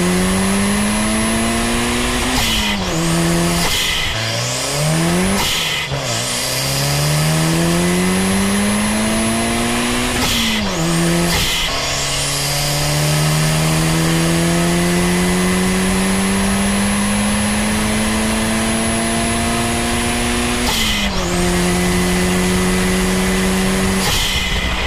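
A Toyota Celica GT4 rally car accelerates hard with turbo boost. Its engine rises repeatedly through the gears, and short breaks mark each shift. The loud, sustained interior drone continues for the whole stretch with no talking.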